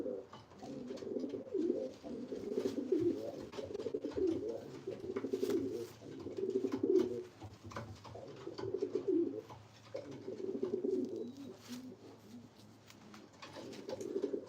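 Pigeons in a breeding loft cooing, repeated low rolling coos in bursts of a second or two with short pauses, fairly close, over a faint hum and occasional light knocks.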